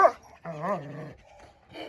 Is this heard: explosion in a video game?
no